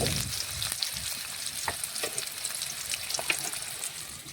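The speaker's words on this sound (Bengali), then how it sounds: "এখন পেঁয়াজ নাড়াচাড়া করে পেঁয়াজটা একটু লাল লাল করে ভেজে নেব।" Chopped onions fry in white oil with cumin seeds and bay leaves, a steady close sizzle broken by a few scraping stirs of the spatula, with no talk.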